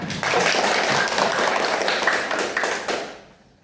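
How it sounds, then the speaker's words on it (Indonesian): Applause during a classroom quiz session, a brisk burst of clapping from a group, dense and even, then fading out quickly near the end without talk. "Kasih tepuk tangan dong untuk Stella"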